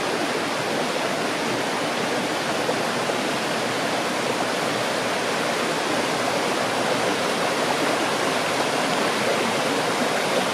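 A small brook flows near an old mill site on Rock House Road in Goshen, Connecticut. Its close, even rushing hiss runs unbroken throughout with no voices.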